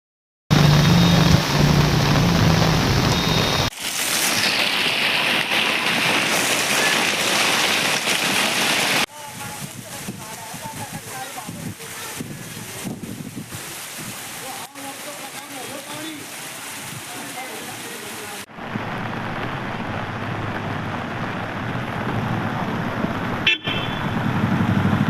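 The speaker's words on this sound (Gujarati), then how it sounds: "સવારથી નોનસ્ટોપ વરસાદ વરસતા" Heavy nonstop rain pours down in Narmada district, Gujarat, a dense continuous wash of rainfall on surfaces with passing car noise and an occasional horn in the background.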